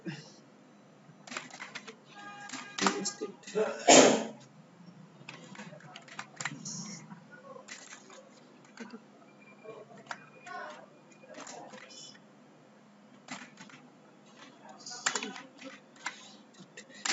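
A computer keyboard clatters in irregular bursts of quick key taps, close by and moderately loud, with brief pauses between runs of typing.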